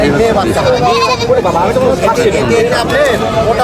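Goats bleat repeatedly at a busy goat market in Tebaria, Natore, their wavering cries overlapping amid crowd chatter and nearby talking.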